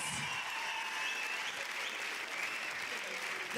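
Steady applause from a small studio group during a podcast, a continuous faint patter of clapping hands lasting the whole moment with some voices mixed underneath.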